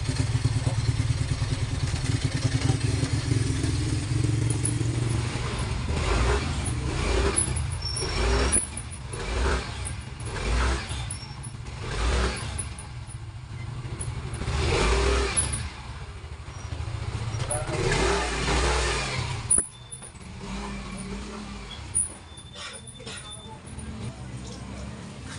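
A Yamaha Mio i 125 scooter that smokes despite being new, with a fixed warning-light fault, is test-run: a steady, close engine idle with some rises in revs, while someone talks over it throughout.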